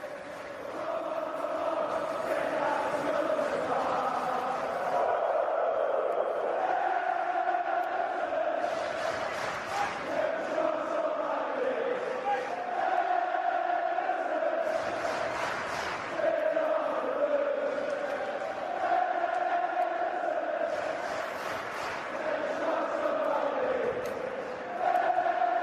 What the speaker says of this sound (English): These celebratory scenes from the Everton fans continue at the King Power Stadium